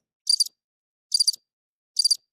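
Crickets give three evenly spaced bursts of high, trilling chirps, crisp and fairly close against otherwise silent surroundings.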